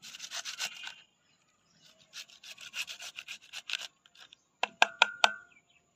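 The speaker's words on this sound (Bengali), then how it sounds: "আদাটাও এভাবে কেটে নেব।" A knife slicing ginger close up, with short bursts of rasping cuts, then a pause, then a longer run of strokes, ending in a few sharp taps on the board.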